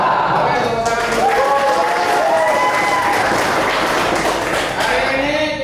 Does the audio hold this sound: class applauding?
yes